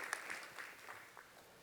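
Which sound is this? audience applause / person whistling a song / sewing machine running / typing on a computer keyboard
audience applause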